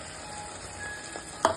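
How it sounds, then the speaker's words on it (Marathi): Hot water goes into sizzling chicken masala gravy in a pan: a soft, steady frying hiss with a brief small splash near the end, no talking. "आता आपलं चिकन शिजायचंय म्हणून थोडस पाणी टाकायचं"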